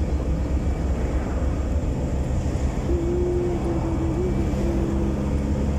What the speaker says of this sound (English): Engine sound.